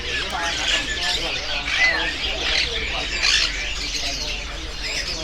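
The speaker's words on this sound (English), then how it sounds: "Oh, these are some parrots." Parrots with red heads and yellow bodies squawk and chirp continuously in a crowded Hong Kong bird market, a dense layer of overlapping calls under a steady background murmur.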